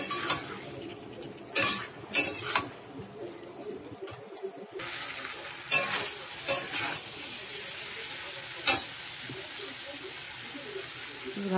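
Chopped tomato sizzling in a pan for a Bengali fish curry, a moderate fry broken by several sharp clanks of a spoon against the pan, with a brief quiet gap before the sizzle returns.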